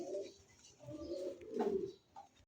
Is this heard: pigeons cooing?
yes